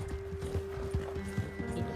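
A mare's hooves clip-clop at a steady walking rhythm in Red Dead Redemption 2, the repeated soft thuds sitting beneath a sustained game music tone with no talking.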